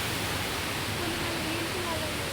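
Water from the open gates of Kadam dam rushes in a steady, loud broadband roar that fills the whole stretch without letting up.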